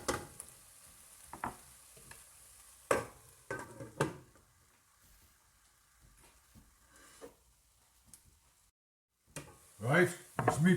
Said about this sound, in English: we'll give them a couple more minutes, let them brown off a little bit